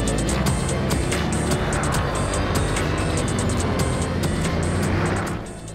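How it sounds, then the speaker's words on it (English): A 1200-horsepower carbon-fibre Bugatti Veyron Grand Sport Vitesse engine roars loud and steady for several seconds, with a high whine on top and regular pulses, before tapering off at the end. "The 1200 horsepower, carbon fibered Bugatti Veyron Grand Sport Vitesse."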